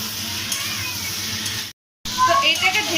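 Sambar masala sautés in a pan, a steady sizzling hiss with light stirring scrapes, cut by a brief silent gap before the frying noise resumes slightly louder.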